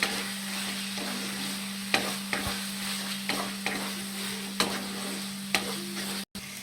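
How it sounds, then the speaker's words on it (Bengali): Goat fat fries with spices in a pan, giving a continuous sizzle with regular spatula scrapes and taps as it is stirred, close-up and without any speech. "এবার চর্বি দিয়ে দেবো দিয়ে ভালো করে মশলার সাথে মিশিয়ে নেব"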